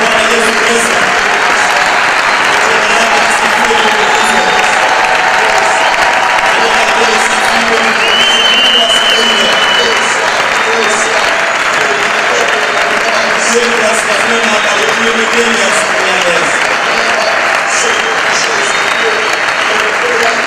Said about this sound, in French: Mpigie makofi Bwana Yesu Kristo.